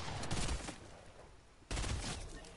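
Bursts of rapid gunfire from a shooter video game, two loud dense volleys separated by a short lull, heard up close.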